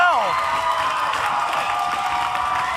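A wrestling crowd at an OVW event cheers, claps and whoops in a dense, steady roar that fills the whole stretch without a break.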